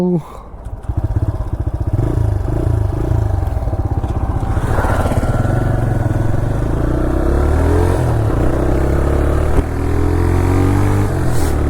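A TVS Raider 125 motorcycle being ridden, its engine droning steadily and close with shifting pitch as it accelerates and eases off, with wind and road rumble underneath.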